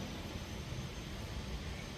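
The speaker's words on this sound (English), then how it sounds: "I believe that is a helicopter starting up right now." A helicopter starting up, a steady broadband engine roar at moderate distance, continuous and even throughout with no talking.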